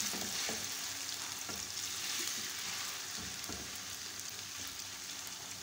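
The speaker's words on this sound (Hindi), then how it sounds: "आलू को हम हल्की आंच पर फ्राई करेंगे।" Potatoes frying gently in oil over low heat, a soft, even hiss with a few light clicks of stirring, quiet and close, with no talking.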